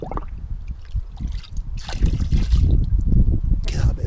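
Liquid from a car wash maintenance product trickles and splashes into an empty bucket, a steady pour of moderate loudness that builds toward the end, with low handling noise and no talk over it.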